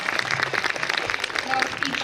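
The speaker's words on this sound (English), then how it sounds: "give them a huge round of applause" An audience at a school annual concert quiz claps for the teams, a continuous patter of applause throughout with a voice speaking over it.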